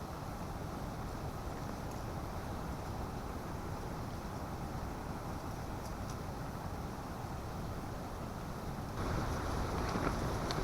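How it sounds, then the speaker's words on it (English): Strong, steady wind roars across an open campsite on a cold, rainy day, a constant broadband rush with some buffeting on the microphone that swells louder near the end, no speech. "Getting a little chilly because of that wind."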